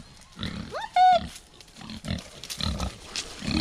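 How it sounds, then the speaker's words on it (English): Kune Kune pigs, a small New Zealand breed raised on a farm, grunting close by in short rough bursts, with one higher squeal partway through and rustling movement between grunts. "So these are KuneKune pigs."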